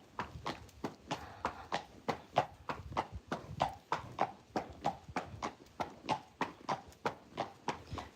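A horse's hooves clip-clop steadily on a ride, with an even, regular walking rhythm of close, crisp strikes throughout and little else audible.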